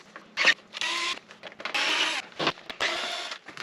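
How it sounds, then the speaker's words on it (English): A cordless driver backs M5 Allen screws out of a Honda CRF300L in three short whirring bursts, close and moderately loud, separated by brief pauses. "Okay, so the first thing I want to do is remove some screws"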